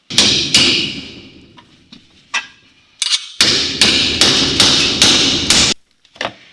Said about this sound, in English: So now we can get a chisel and just chisel them off.